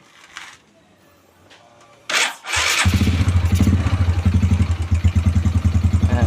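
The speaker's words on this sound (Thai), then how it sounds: "ทีนี้ผมจะสตาร์ทรถให้ดูนะครับ" A car engine cranks briefly and catches, then settles into a loud, steady idle with a rhythmic pulsing throb, close by, while an air-fuel ratio gauge is fitted.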